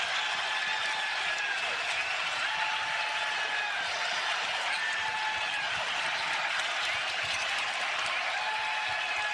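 A college basketball crowd in Omaha cheers and applauds, a thick, continuous roar of clapping and voices at steady loudness throughout, with faint whistles or shouts poking through the wash.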